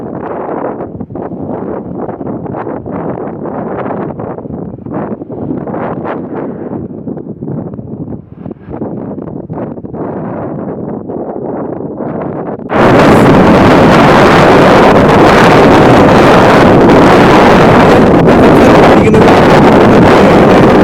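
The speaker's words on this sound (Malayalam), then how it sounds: "നല്ല തണുത്ത കാറ്റ്" Strong cold wind buffets the microphone in rough gusts, then turns into a louder, constant roaring rush for the rest of the stretch.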